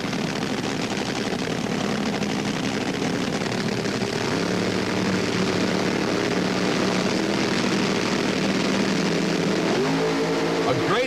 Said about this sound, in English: A great start by both cars